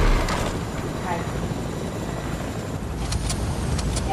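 The Choppa helicopter in Fortnite drones steadily with a loud, continuous rotor and engine roar, joined by a few faint clicks near the end.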